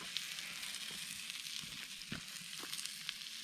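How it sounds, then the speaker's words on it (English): Food fries over campfire embers outdoors, a steady, close sizzle and crackle with occasional sharper pops, heard alone without talking. "Look, she's already frying up."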